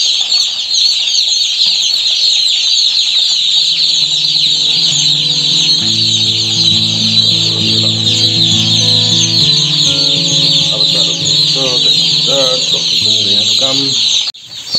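Backyard chickens cluck inside a coop with occasional wing flapping, heard over a constant loud hissing background that runs throughout.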